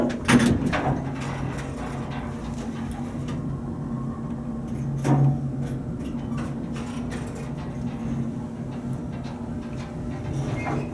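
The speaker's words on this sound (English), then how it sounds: "The door operator is epic." A 1959 Otis traction elevator's small door operator runs in the cab of an arts building, with a steady mechanical hum, clunks at the start and midway, and scattered rattles and clicks throughout.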